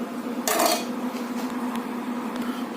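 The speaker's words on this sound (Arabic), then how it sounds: "نسحب بقى كده المعلقه بالراحه" A spoon is slowly drawn out of a cup of hot mocha, giving one short, light clink near the start over a quiet background hum.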